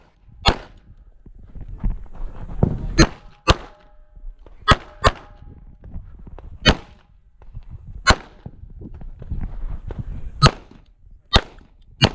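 Pistol and rifle shots at clay targets, including a 5.56 rifle, ring out as about a dozen sharp, loud cracks spaced irregularly, some in quick pairs, with faint rustling and movement between them.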